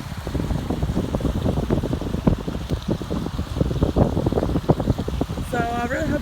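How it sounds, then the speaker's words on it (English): Water flowing right beside a bike path outdoors, a close, continuous rushing and splashing with wind buffeting the microphone throughout. "Oh, this beautiful, relaxing water."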